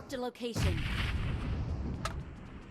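Grenade blast and gunfire in the mobile battle royale game PUBG Mobile, a broad booming roar sustained after a brief burst of voices, with one sharp crack near the end.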